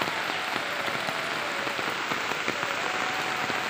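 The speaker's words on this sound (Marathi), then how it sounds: "टायमाला पाऊस आला आहे" Monsoon rain falls steadily over Konkan rice fields in a dense, even hiss, constant and enveloping, with faint patter of drops on surfaces and no voices.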